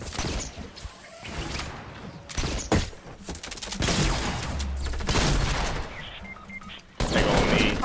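Rapid bursts of gunfire in the Fortnite video game crackle in dense volleys with brief gaps between them, loud and close, mixed with thuds and mechanical clatter.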